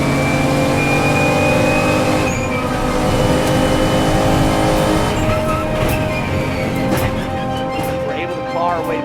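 Race cars run in a pack behind a pace car during a timed motorsport race, a loud continuous engine roar with gear changes and passing whines, and a voice commentates over it.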